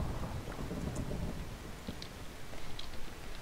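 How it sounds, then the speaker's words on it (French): A thunderstorm with rain in the Minecraft video game, steady dense rain hiss with low rumbling thunder and occasional drop ticks, moderately loud and continuous with no talk. "C'est un orage ou quoi?"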